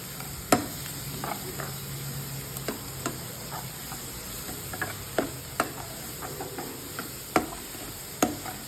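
Ginger garlic paste frying with onions in a pan, a soft steady sizzle with light spatula clicks and taps at irregular intervals throughout.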